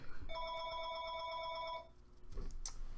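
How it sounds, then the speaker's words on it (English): A telephone rings with a steady electronic bell tone for about a second and a half, then stops, followed by a faint handling clatter in a quiet room. "That was the phone."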